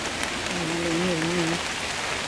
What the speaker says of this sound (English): at least we found a dry spot under the tree for now, right?